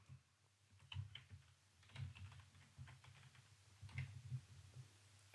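Keys clatter on a computer keyboard as a name and email address are entered into a web chat form, coming in short bursts of quick taps separated by brief pauses, close and clear with no talking.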